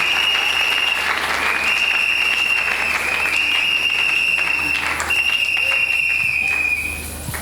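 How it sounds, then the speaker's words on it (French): Loud, enthusiastic congregation applause in a French-speaking church after a family's testimony, dense continuous clapping with cheering and a sustained high whistle or ululating tone over it before it fades. "Fortifiez-les par nos acclamations et acclamons pour la gloire de Dieu."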